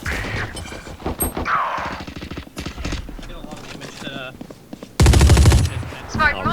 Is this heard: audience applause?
no